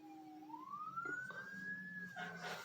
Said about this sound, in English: There's been one ambulance and fire truck and police cars after another for the last half hour.